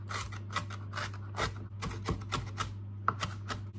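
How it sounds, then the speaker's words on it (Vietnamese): Rapid, uneven knife chops mincing food finely on a cutting board, close and fairly loud, with a steady low hum underneath. "Cái này thì mình sẽ băm nhuyễn ra."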